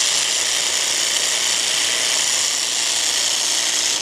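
A Milwaukee M18 Fuel hedge trimmer attachment cuts through a yard hedge with a loud, steady, high-pitched motor buzz that holds unbroken and close throughout.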